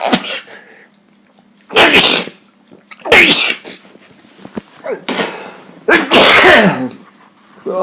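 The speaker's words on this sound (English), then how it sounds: "when I get to sneezing" A person sneezes loudly several times in a row, sharp bursts spaced about a second apart with breaths and snuffles between them.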